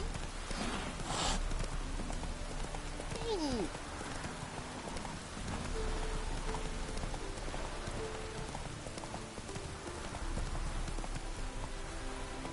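Steady rain falls across a scene in The Witcher 3, a dense, even hiss of drops on surfaces that runs the whole time at a constant level with no pauses.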